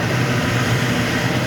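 A Speed Queen commercial washer early in its wash cycle gives off a steady low motor hum and drone, with no talking over it.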